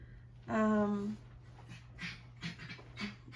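An old dog, nearly fourteen, whines briefly and then pants in a quick rhythm close by indoors. A human voice is also heard.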